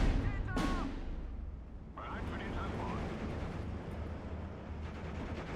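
Counter-battery artillery fire in the Steel Division 2 video game: low, rumbling booms and a distant roll of explosions, with a few sharper cracks, under a man's speech.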